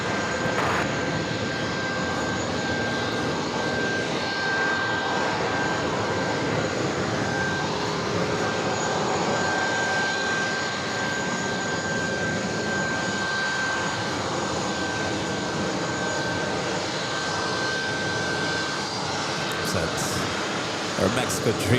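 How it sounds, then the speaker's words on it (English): Continuous jet engine drone from an American Airlines 787-9 Dreamliner arriving at JFK from Tokyo Haneda, heard as a steady mid-distance roar with a faint high tone running through it. "Next arrival is American Airlines Flight 168 coming up from Tokyo Haneda"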